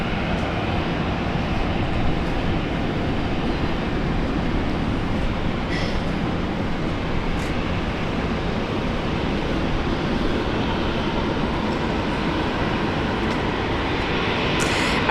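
An airliner landing on runway 19 left at Brisbane International Airport, a loud, steady broadband roar of engine and rushing air that continues throughout from a moderate distance, with no talking.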